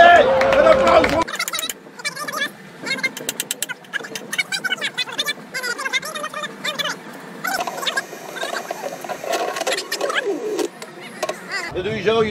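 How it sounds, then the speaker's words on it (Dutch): Audience applause and cheering at a performance by a Dutch musical act, a dense crowd din that swells and holds for several seconds, with voices mixed in and a louder burst at the start and end. "Een applaus voor..."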